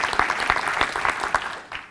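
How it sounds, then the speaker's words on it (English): A lecture audience at a TED talk claps their hands, a dense burst of many overlapping claps that is loud at first and eases off toward the end. "I'd like you to clap your hands"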